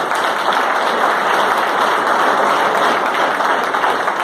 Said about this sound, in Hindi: उनके लिए एक बार जोरदार ताली देता।